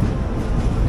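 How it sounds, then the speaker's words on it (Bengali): Train pulling out of Sealdah station, a dense low rumble of wheels and carriages, loud and steady throughout with no voices. "শিয়ালদা স্টেশন ছেড়ে বেরিয়ে যাচ্ছি আমরা"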